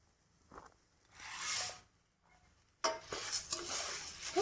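Puffed rice being stirred and roasted in a pan, heard as dry rustling and scraping in two bursts separated by a quiet gap, with no talking.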